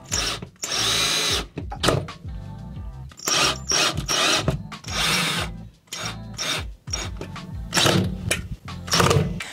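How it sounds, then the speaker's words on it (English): A power drill drives screws into a toilet during a repair, whirring in repeated short bursts of one to two seconds with brief pauses between them, close and loud. "We're about halfway with all the screws, and now I'm gonna crank them down."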